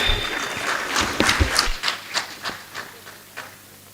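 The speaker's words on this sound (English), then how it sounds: "Ladies and gentlemen, a hearty round of applause for the EAC DSG, Andrea Arik Malouet." Audience applause at a high-level forum on climate change and food security, a dense wash of clapping that thins after a couple of seconds into scattered, fading individual claps.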